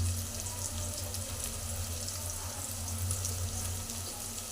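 Chopped mint leaves fry in a pan for chicken curry, giving a steady, fairly faint sizzling hiss with a low hum running underneath throughout.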